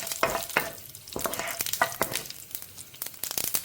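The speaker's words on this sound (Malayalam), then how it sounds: "ഇനി നമുക്കിതിലേക്ക് കറിവേപ്പിലയും അതുപോലെ ഉണക്കമുളകും ഇട്ട് കൊടുക്കാം." Curry leaves and dried red chilies crackle and sizzle in hot coconut oil with popping mustard seeds, the pan stirred with sharp scraping strokes; close, steady frying texture without any voices.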